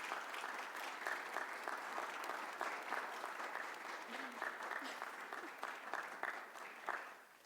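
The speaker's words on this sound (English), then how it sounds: "Let's have a round of applause." An audience at a live talk event applauds steadily, a moderately close, even patter of clapping that thins slightly toward the end, with faint voices underneath.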